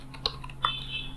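Keys clack on a computer keyboard in a few quick, sharp taps and then a steadier patter, close and quiet, with no voices.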